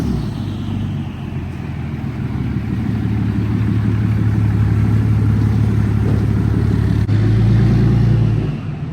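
A lifted SEMA show truck idles with a steady, close, loud engine rumble as it is driven inside a building, growing heavier near the end, with no talking.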